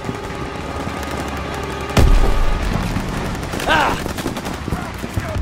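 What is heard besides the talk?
gunfire in Call of Duty WW2 video game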